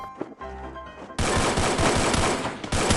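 Rapid automatic gunfire in the Free Fire video game bursts out after a brief quieter stretch, continuous and dense, loud and close with a short break near the end.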